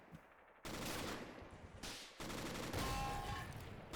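Video game gunfire aimed at a medium tank, loud bursts of rapid machine-gun fire in a couple of sustained volleys separated by a short gap.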